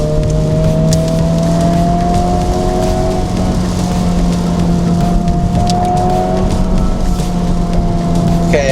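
A 2025 Honda Civic Type-R driving on a winding road: the engine holds a loud, steady drone from inside the cabin, and a sustained tone drifts slightly as the car holds a gear, with road noise underneath.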